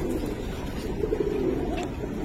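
Soft, repeated cooing from silver Palla-line giribaz pigeons in a loft, low rolling calls close by over a constant ambient hum.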